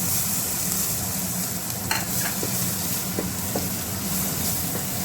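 Dry chillies sizzle and fry in hot oil in a home kitchen, a steady close crackling hiss throughout with a few brief clinks of stirring.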